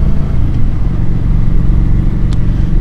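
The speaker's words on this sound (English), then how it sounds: "Pretty tame exhaust note, but this has got the factory exhaust on it." A 2015 Kawasaki Vulcan 900 Custom cruiser motorcycle with its stock factory exhaust runs with a steady, loud, low rumbling note, close by and without speech.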